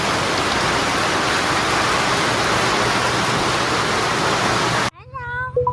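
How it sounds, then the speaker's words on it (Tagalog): Heavy rain pours in a steady, dense roar that fills the space, then cuts off abruptly near the end as other sounds begin. "Hindi na ako natuloy maglaba kasi ang lakas ng ulan."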